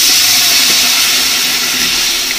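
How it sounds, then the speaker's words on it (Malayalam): Fish biryani gravy boiling in a pot, a loud steady bubbling hiss that fills the whole stretch without pause, with no voices over it. "നമ്മുടെ ഗ്രേവി തിളച്ചിട്ടുണ്ട്."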